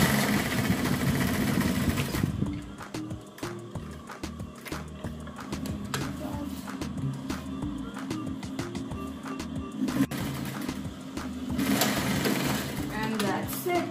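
A sewing machine stitches the sides of a fabric cushion in bursts of rapid mechanical whirring, loud and close, with pauses between runs.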